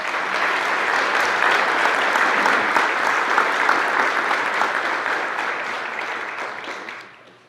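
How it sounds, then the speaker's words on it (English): Steady, dense applause from a community meeting audience for wildfire crews, loud and sustained for about seven seconds before trailing off quickly at the end. "Please give them one more round of applause."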